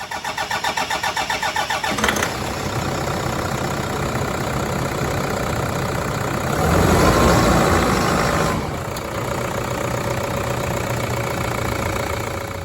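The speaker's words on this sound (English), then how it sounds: "What we're going to do now is get the engine started" A Toyota car engine cranks rapidly for a couple of seconds, catches, and settles into a steady idle, with a brief rev midway.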